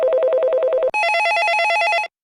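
A telephone rings in rapid electronic trills, first one short burst at a lower pitch, then a longer burst at a higher pitch, loud and close with no voices.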